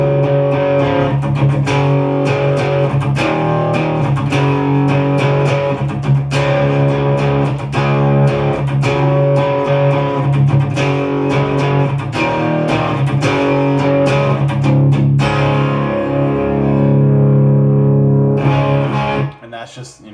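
A distorted electric guitar plays a slow power-chord progression, thick sustained chords changing one after another, loud and close, with the last chord ringing out before a sudden stop.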